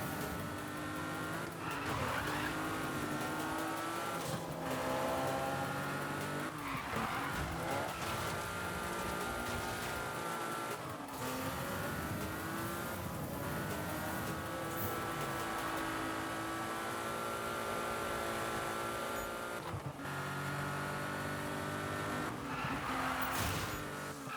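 A car drifts in Need for Speed (2015), its engine roaring continuously while tires squeal through long skids, the screech swelling and easing across repeated slides with no talk.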